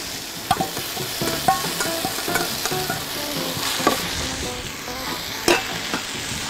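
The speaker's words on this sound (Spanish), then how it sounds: "vamos a tirar nuestro trigo majado" Crushed wheat sizzles and fries in a pan while a utensil stirs it, steady crackling broken by a few sharp scraping knocks, close and alone with no talk.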